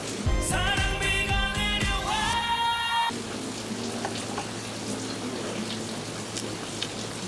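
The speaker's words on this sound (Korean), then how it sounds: "단돈 천 원이면 6분 동안 하늘에서 비가 내립니다" Steady artificial rain patters continuously at moderate loudness over a pork-trotter restaurant, following a few seconds of music that cuts off abruptly.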